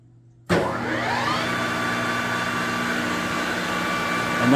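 A Sharp 1640K high precision lathe in excellent condition starts abruptly and spins up to 1200 RPM, its motor and spindle whine rising in pitch then settling into a loud steady hum close by.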